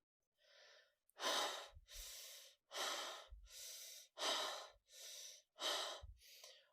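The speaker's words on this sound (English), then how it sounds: "He breathed heavily." A man breathes heavily after waking from a nightmare in a radio drama, a close, loud sequence of about seven rhythmic gasping inhales and exhales, evenly spaced, with no talk.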